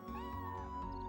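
A cat meows in a single drawn-out, fairly clear call lasting about a second, heard alone.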